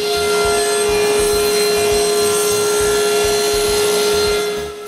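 A saw cuts wooden half circles held on a sled faced with sandpaper, a steady, loud, continuous grinding rasp that holds throughout and fades slightly at the end.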